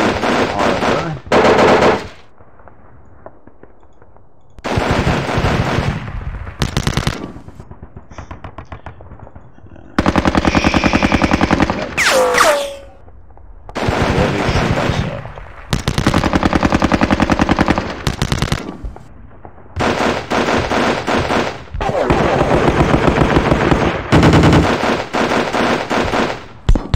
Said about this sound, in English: Losing that gunfight. So much defensive fire.